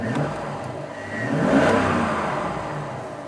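A 2004 Chevy 5.3 LS engine with about 135,000 miles revs up in one smooth rise and settles back down, a close, steady mid-pitched whir without any talk.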